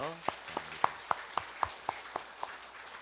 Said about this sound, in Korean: 열심히 한 성가대에게 격려의 박수 한번 하겠습니다